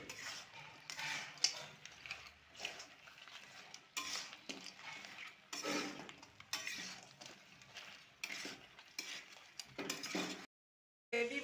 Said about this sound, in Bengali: এবার এগুলো দিয়ে আমি খুব ভালো করে এটা মিশিয়ে নেব।